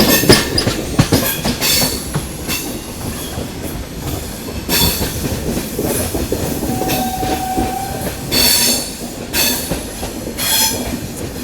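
The 22159 Chennai Express passenger train runs on rails near Khandala on its Mumbai–Chennai route. Wheels clatter rhythmically with clickety-clack beats and brief squeals, loud and close throughout.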